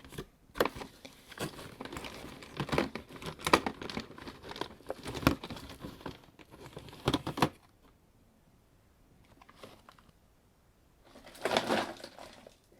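An opened bag of Colombian Trinitario cocoa pieces crinkles and rustles close up in bursts of handling, with a quiet pause before a final crumple.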